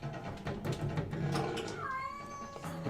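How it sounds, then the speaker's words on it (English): A cat meows, one rising and falling call in the background behind the steady mechanical hum and clatter of a Bally Escape From the Lost World pinball machine. "there's a cat meow in the background"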